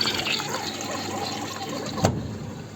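An Arçelik washing machine fills with water during its final rinse, a steady close rushing and gurgling flow that continues throughout with a small splash partway.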